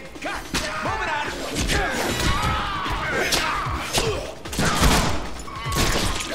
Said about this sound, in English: Explodes, that's awesome.